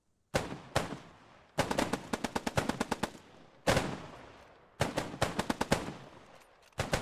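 Rifles in the World War II shooter Post Scriptum fire in loud, close volleys: sharp single shots and rapid ragged strings of cracks, repeated in several bursts separated by short pauses.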